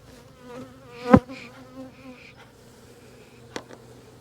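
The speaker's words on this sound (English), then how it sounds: "They're a little bit more agitated today than they were the other day" A steady insect buzz of many agitated honey bees at a hive, with a louder close pass and a sharp knock partway through.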